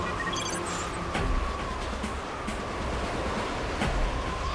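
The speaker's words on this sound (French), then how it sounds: "Il y a trop de vent." Strong wind rushes and gusts steadily in a broad, hissing roar, like surf, with a couple of brief sharp knocks mixed in, in a cartoon scene with no talking.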